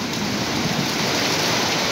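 Steady, dense rain from Cyclone Remal patters continuously on a surface at Thakurpukur, a broad even hiss with no pauses and no voices.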